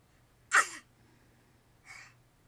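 A person sneezes once sharply, followed a moment later by a softer breathy gasp or second sneeze, close and alone in a quiet room.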